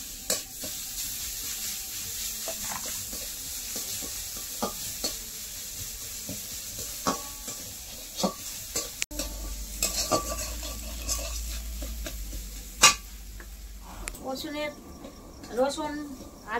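A paste of ginger, four or five green chillies and six or seven garlic cloves fries in oil, soft sizzling broken by repeated sharp clinks and scrapes of a spoon stirring the pan, with a low rumble midway.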